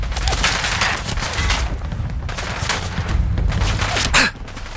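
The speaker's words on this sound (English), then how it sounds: "Intruder alert. Returning fire." Gunfire in the Fallout 4 video game, bursts of rapid shots in dense, loud volleys with booming impacts, ending in a sharp final crack.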